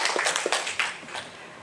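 A short burst of scattered applause from a small audience after a talk, a few quick uneven claps, close and fairly loud, fading out within about a second.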